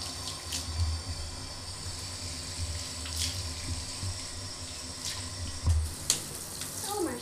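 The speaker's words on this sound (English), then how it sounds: "I'm gonna go ahead and rinse the shampoo off now" Water runs steadily from a tap as shampoo is rinsed off a small dog in a bath, a continuous splashing hiss with a few brief thumps and knocks as the dog moves.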